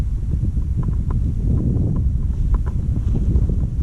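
Heavy wind buffeting a microphone outdoors at an airfield during a Volantex Corsair F4U RC plane flight, a loud continuous low rumble with irregular gusty thumps and no talk.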